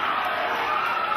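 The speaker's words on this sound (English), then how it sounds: "Well, the crowd are screaming." Dense crowd noise fills a boxing arena during the Clarkson vs Howard fight in the UK, a steady roar of shouting and screaming with a commentator's voice running underneath.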